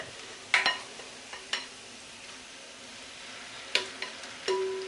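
Pancake batter stirred in a bowl, sparse scraping and clinking strokes from the utensil, a few sharp knocks spaced irregularly over a quiet background.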